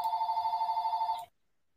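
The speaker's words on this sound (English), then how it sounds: "oh no, my phone's ringing" A telephone bell rings in a steady, rapid trill for just over a second, then cuts off abruptly into silence.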